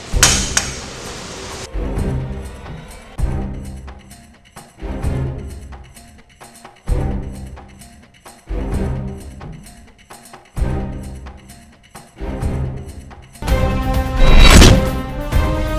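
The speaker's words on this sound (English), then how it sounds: "We used 2 kg sledgehammer, continuous hammering the motor lock body." A 2 kg sledgehammer repeatedly striking the metal body of an American disc brake motor padlock: loud, close metallic bangs in a steady rhythm of about ten blows, each with a ringing decay, followed by a louder rattling crash at the end.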